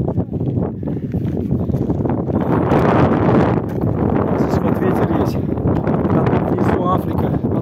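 Steady roar of wind buffeting the microphone, loud and continuous, with rustling and a voice speaking underneath, on a mountain during a 100 km ultramarathon.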